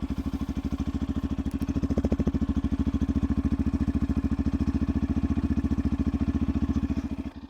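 A Yamaha FZ version 3 motorcycle idling, its exhaust beating in a steady, even pulse throughout, close and loud with no voices.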